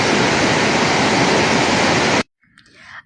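A powerful waterfall roars as loud, dense rushing water at close range for about two seconds, then cuts off abruptly into near silence with a faint murmur.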